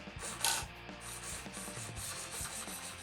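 A hobby servo motor strains under torque, giving a rough grinding, ratcheting whir with gear chatter, close and continuous, with no speech.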